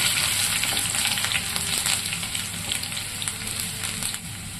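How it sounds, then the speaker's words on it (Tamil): Bright, crackling sizzle of ginger and garlic sautéing in hot oil, steady and close, with faint stirring scrapes underneath. "இது ரெண்டும் சேர்த்து எண்ணெயில் நல்லா வதக்கிக்கிறோம்"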